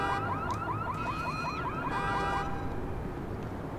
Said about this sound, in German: Alarm auslösen, wäre auch mal was.